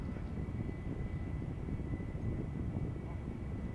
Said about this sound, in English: BA A320 going to London Heathrow